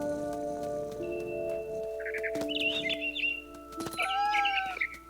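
Bird calls from the mother bird in the video game What Remains of Edith Finch: short bright chirps and trilling tweets in two bursts over a steady tonal hum and soft ambient bed, fairly close and clear, with no voices.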